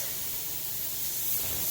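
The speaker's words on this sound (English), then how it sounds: "10 minutes since the steam started coming out." Steam vents steadily from a pressure canner used for canning beans, a continuous bright hiss at even loudness with no voices.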